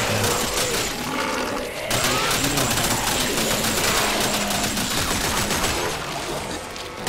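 Sustained gunfire aimed at Necromorphs in the co-op video game Dead Space 3, a dense continuous barrage of shots with growling creature sounds mixed in, loud and close, with a brief break near the start before the shooting resumes.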